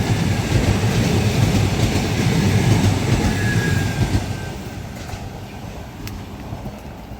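A train rumbles past on the track beside a canal path, loud and close with steady clattering wheels, then gradually recedes and quietens toward the end.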